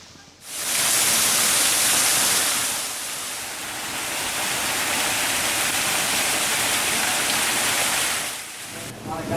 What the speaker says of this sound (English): you may hear the mill in the background.